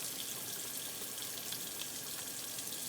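Steady broadband rush of running tap water as hands are rinsed beneath the faucet, continuous and fairly close for the whole stretch with no talk.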